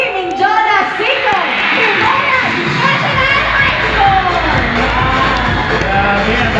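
Loud crowd of high school students cheering, whooping and shouting together at a town fiesta, with a dense, sustained wall of young voices and rising yells throughout.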